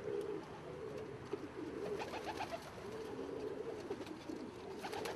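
Frillback pigeons, some crested and some plain-headed, coo in soft repeated rolling phrases close by, with faint chirps from other birds in the loft and no talking.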